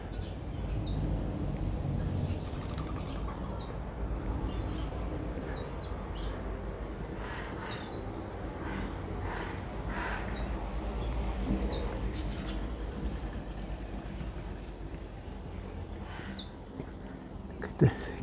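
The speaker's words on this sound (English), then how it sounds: "There's so much bird life here." Garden birds in a yard in Strydenburg: repeated short chirps and calls scattered over a soft, steady outdoor background, with a few quiet murmurs of talk.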